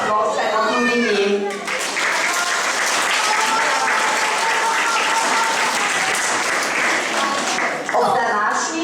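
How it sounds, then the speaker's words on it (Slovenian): Audience at an exhibition opening on the theme of animals breaks into sustained, loud applause, a dense wash of clapping that follows brief talk and fades back into speech near the end. "zato zaploskajmo tudi njim"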